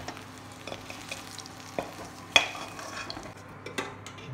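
Potato pieces fry in hot oil with a low steady sizzle while a utensil stirs and clinks against the pan, giving a few sharper knocks as the fried potatoes are lifted out.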